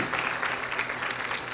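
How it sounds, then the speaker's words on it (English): Applause at a fundraising gala, a steady dense wash of clapping from a seated audience that fills the short moment without pause or other sound. "Round of applause, please."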